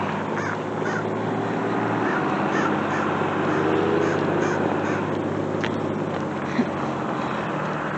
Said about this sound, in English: there's one of my crows, I think, hanging out on top of the school